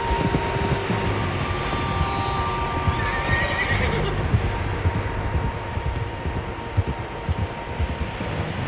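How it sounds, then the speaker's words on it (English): Horses in the open country of the Red Dead Redemption 2 video game, with a whinny and a neigh standing out over steady hoof clopping and a dense, rustling outdoor ambience that lasts throughout. "Tracks. Horses, quite a few of them."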